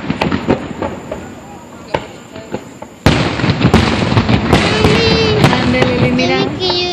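Fireworks burst at a Fourth of July Independence Day show, with scattered crackles at first and then a loud sustained barrage of pops, whistles and booms. Voices can be heard in the background.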